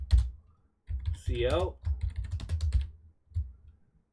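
Computer keyboard keys clatter in short bursts of typing during C++ coding in Visual Studio 2022, close by and mixed with a person talking over it.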